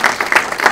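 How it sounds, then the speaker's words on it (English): Audience applause for event volunteers at a tech company gathering, a brief burst of steady, close crowd clapping with rapid overlapping claps. "So let's give them a big round of applause."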